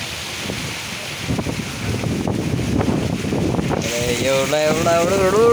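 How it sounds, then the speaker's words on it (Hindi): Gusty storm wind roars and buffets the microphone amid heavy rain, building in strength, while someone speaks briefly and a wavering voice-like tone rises near the end. "हवा के साथ एकदम तूफान।"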